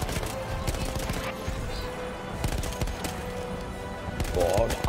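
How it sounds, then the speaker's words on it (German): Bursts of rifle and machine-gun fire in the World War I shooter Battlefield 1 against Austrian troops, sharp repeated cracks in irregular volleys over a rumbling battlefield, growing louder at the end. "Wir sehen schon, die Schüsse prallen an uns ab."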